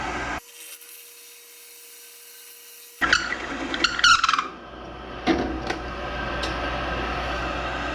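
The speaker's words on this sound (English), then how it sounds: "I'm not drilling all the way through. I want the base, I want the bottom of the hole to actually be flat." A drill boring a flat-bottomed, part-depth hole into a wooden piece in a simple jig, heard as a few scraping, rubbing bursts of cutting after a quiet start, close and moderately loud with no talking.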